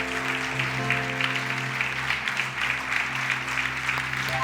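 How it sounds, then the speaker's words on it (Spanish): Church congregation applauding during a worship service, a steady mass of clapping layered over sustained low musical tones from the sanctuary, continuous and fairly loud throughout. "Más grande ese aplauso, creo que lo puedes dar para el Señor."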